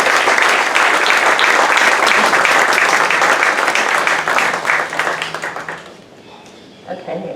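A conference audience bursts into sustained applause to welcome a speaker to the stage, dense clapping filling the room for about six seconds before fading out, with a few faint sounds and a voice starting near the end.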